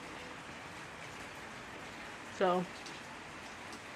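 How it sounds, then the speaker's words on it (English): Steady rain falls in Los Angeles, a soft even hiss that stays faint and continuous throughout while a person speaks a single brief word. "I like the rain."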